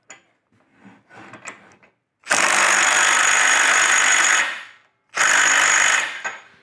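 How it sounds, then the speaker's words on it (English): A Milwaukee compact impact wrench set to speed three tightens a fastener, firing two loud, dense hammering bursts close up, the first about two seconds long and the second shorter, with faint handling noises before them. "Let's tighten it down fully."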